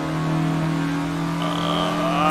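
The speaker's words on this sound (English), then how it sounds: "We're going full throttle." A Reliant Robin's small engine drones steadily at full throttle, with a strong sustained harmonic hum and a rising whine near the end, close and continuous.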